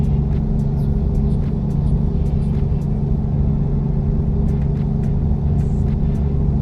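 Steady low engine rumble of a truck driving in the American Truck Simulator video game, a continuous drone with faint clicks above it and no talking.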